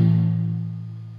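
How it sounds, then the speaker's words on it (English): A palm-muted distorted electric guitar chord on the bottom three strings, from a song, a single dull, damped low hit that decays quickly and quietly up close. "But what we're going to do is palm mute it"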